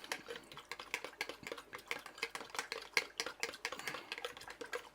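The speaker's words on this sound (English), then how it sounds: "I'll just stir that up with this thermometer." Sugar and yeast solution stirred with a glass thermometer for a DIY CO2 system, giving a quick rhythmic ticking and clinking against the container, faint and close, with no talk.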